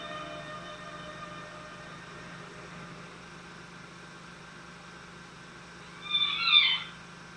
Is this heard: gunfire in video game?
no